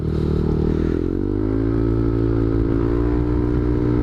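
Remapped motorcycle engine running steadily close by, a loud continuous drone with layered harmonics that rise slightly in pitch after the first second, as if the throttle is opened, then hold level without pauses.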